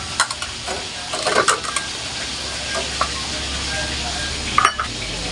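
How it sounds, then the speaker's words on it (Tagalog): Annatto seeds sautéing in a pot as the base for sotanghon soup, a soft continuous sizzle with occasional stirring and utensil scrapes, close and moderately loud with no talk. "ilagay na po natin yung ating pampakulay, yung atsuete seeds po. Sarayin po natin ito."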